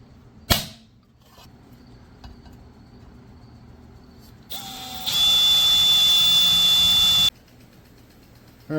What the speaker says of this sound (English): I'm going to hit it with the wire wheel just to clean up some of those grinder marks